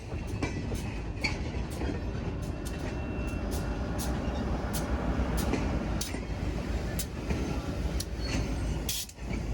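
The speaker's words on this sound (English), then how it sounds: "FR-101, 102 is one of 2 in-service locomotives on the Fore River." Fore River Railroad locomotive FR-102 rolling along with its cars, a steady low rumble under repeated sharp rail clicks and clanks, moderately distant and fairly quiet, without any talking.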